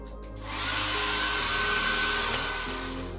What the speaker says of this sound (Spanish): un consejo que os doy, el secador siempre a mano